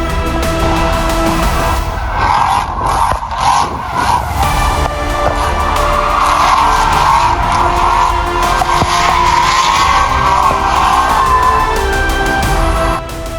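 A drift car circles the Corvette Museum racetrack in Kentucky, its engine holding a loud, steady drone with tire squeal rising and falling throughout, close and continuous with no break.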